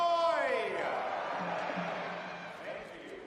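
Arena crowd at an indoor soccer match cheering a player's goal, a sustained roar of many voices with whoops that slowly fades over a few seconds.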